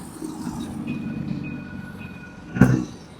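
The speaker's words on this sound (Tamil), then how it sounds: "ட்ரெயின் வருது பாருங்கள்" A Dubai Metro train pulls into a station with a steady low rumble and faint high whine, ending in a brief louder clunk or hiss near the end, with no talking.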